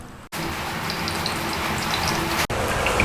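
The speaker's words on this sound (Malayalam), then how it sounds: "പുറത്ത് നല്ല മഴയാണ് കേട്ടോ" Heavy rain falls steadily outside a home kitchen, a dense unbroken hiss that stays loud and close across the whole stretch, with only brief dropouts at the start and near the end.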